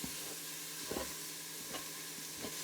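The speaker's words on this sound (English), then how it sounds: "you're just going to push down, twist, push down and twist. And that will break up your meat" Browning ground meat sizzles steadily in a Cosori pot as a masher pushes and twists through it, giving a constant frying hiss with a few soft periodic thuds.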